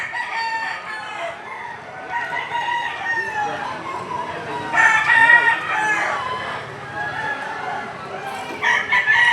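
Roosters crow at an outdoor rainy-day market for fowl in the Philippines, with repeated crowing and clucking among the birds, while someone talks over them throughout.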